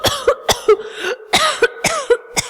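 Harsh, wet coughing in a string of about eight sharp, close bursts with brief raspy breaths between them, uneven in rhythm and heard on its own.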